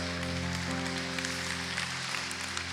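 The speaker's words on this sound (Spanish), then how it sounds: "Puede darle un aplauso al Señor." A church congregation applauds the Lord during a service, a steady wash of clapping that carries on evenly throughout, with sustained keyboard or organ chords droning underneath.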